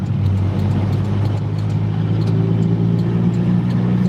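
A car engine drones steadily on a road as another vehicle passes, with a constant loud low hum and no voices.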